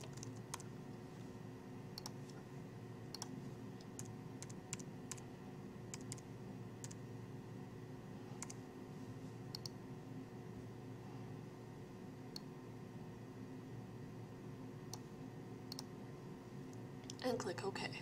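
Computer mouse clicks and keyboard typing at a desk, faint and sparse, with isolated sharp clicks scattered over a quiet background while a narrator talks throughout.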